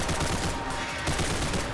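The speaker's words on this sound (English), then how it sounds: "I'm just gonna take the machine gun." Machine gun fire in a video game, a loud dense burst of rapid shots running throughout the clip with no talk over it.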